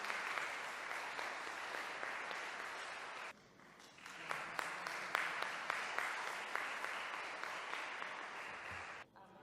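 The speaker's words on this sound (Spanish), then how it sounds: "aplauso para vos" Applause from a church audience during a religious blessing service, dense steady clapping that briefly dips near the middle before resuming and stopping sharply at the end.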